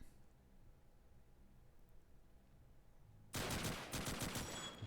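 An MG42 machine gun in the multiplayer game Call of Duty 2 opens up abruptly after near silence, a loud, rapid sustained burst of gunfire that continues to the end.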